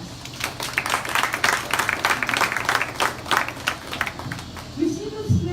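Wedding guests at a Nigerian Sabbath wedding break into a round of applause, steady clapping carried over a busy room with voices and background noise throughout.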